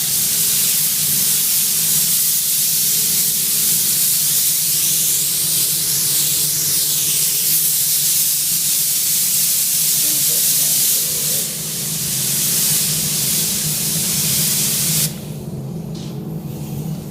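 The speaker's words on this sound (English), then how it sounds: "a fine spray over the top" An airbrush shoots a fine spray of Killer Grunge FX paint, a loud continuous airy hiss that runs steadily, dips slightly near the end and then cuts back to a softer hiss.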